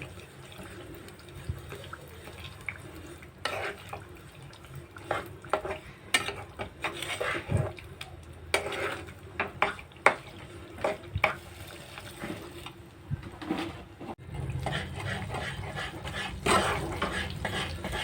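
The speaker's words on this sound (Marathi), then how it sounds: "आता आपल्या गुळाचं पाक आता तयार होतो आहे" Jaggery syrup bubbling in a pan for rice laddu while a spoon stirs it, irregular scraping and clinking strokes over a soft simmer, with a fuller, steadier bubbling toward the end.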